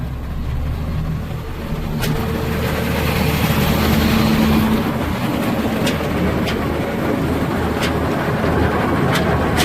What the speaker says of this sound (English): So, I'll go ahead and throttle her up, I guess.